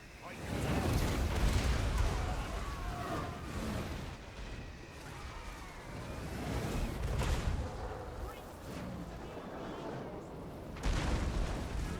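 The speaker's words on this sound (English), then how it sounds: "Some rocks coming down by the hell cannon. That was a crazy hit." Hell cannon artillery in a Total War: Warhammer online battle, heavy booming blasts and rumbling impacts rolling continuously, with a louder crack near the end.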